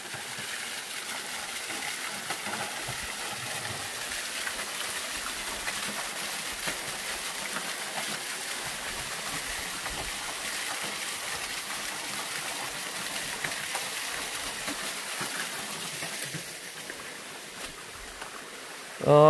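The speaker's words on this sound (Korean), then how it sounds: "여타 다른 폭포들하고는 소리가 완전히 틀려요." A thin, thread-like waterfall in a Korean valley, a steady broadband rush of falling water that stays even and moderately loud throughout, with no voices over it.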